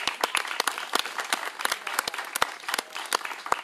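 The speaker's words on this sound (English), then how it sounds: "Give Sister Tina Howell a hand clap of praise." A church congregation breaks into lively, scattered hand clapping, with distinct close claps ringing out over a softer wash of applause.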